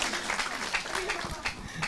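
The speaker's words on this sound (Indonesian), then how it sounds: "Oke, tepuk tangan untuk Mas Agung ya." Brief applause for Mas Agung during a question-and-answer discussion session, a soft, slightly distant patter of clapping under a faint murmur of voices, lasting under two seconds.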